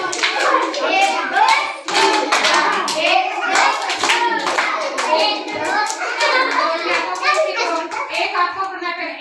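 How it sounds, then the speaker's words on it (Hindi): A group of children claps hands in a lively, continuous stream of overlapping slaps, close and loud, with children's voices chattering throughout. "आप ही आके ऐसे ताली मार लें"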